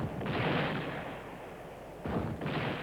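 A World War II tank gun fires rounds to blast into a barn during a battalion battle. Two heavy, booming blasts with long rumbling decay, the second arriving about two seconds after the first.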